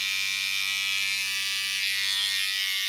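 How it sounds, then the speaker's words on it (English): A Panasonic electric body hair trimmer runs continuously close by, giving a steady high-pitched buzzing whine with a low motor hum beneath and no voices. "The Panasonic body hair trimmer, one of my useful essentials"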